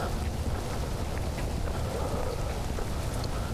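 Steady rain falls on a walking trail by a parking lot, a continuous broadband patter with scattered drop taps, fairly close and unbroken, with no voices.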